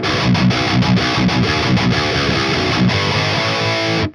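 High-gain electric guitar through a Driftwood Darkest Nightmare amp chugs tight, heavily distorted palm-muted riffs with rhythmic stops, loud and dense, ending abruptly; no voices.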